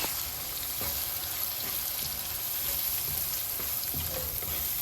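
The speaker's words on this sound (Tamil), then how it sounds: "கருவேப்பிலையும் போட்டு ஒரு வதக்கு" Fresh green curry leaves sauté in hot oil for a garlic kuzhambu, giving a steady, dense crackling sizzle that stays loud and even throughout, with no voices.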